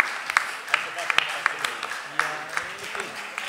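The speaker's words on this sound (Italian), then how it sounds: "Facciamo un applauso ad Angelo Pucci" Scattered claps from a carnival show audience sound in an irregular rhythm with a murmur of voices and talk in the background, fairly subdued.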